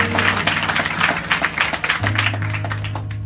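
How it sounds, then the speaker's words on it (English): Church congregation applauding during a centennial kickoff service at St. Mark AMEZ Church, many hands clapping in a dense, lively patter over a sustained organ-like tone, close and fairly loud. "give yourselves a big round of applause"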